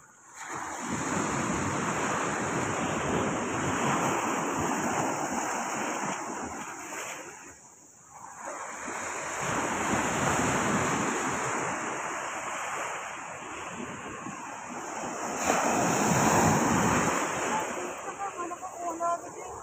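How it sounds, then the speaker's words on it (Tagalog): Large ocean waves surge and break on a shore in a steady roar, swelling and easing in a few long sets with a brief lull between them, loud and close under wind noise. "Malaki ng alon, no?"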